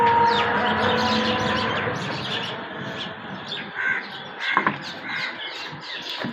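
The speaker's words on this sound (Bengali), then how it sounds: "প্রচুর পরিমাণ খাবার বানিয়েছে আর প্রচুর পরিমাণ পাখি আছে আজকে" A large flock of crows and other birds gathered around scattered food calls busily, with overlapping caws, squawks and chirps, some close and sharp, others farther off in a constant chatter.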